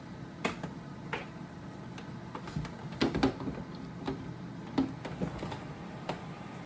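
Two Nesco food dehydrators run side by side, giving a steady, fairly loud fan whir with scattered sharp clicks and taps over the top.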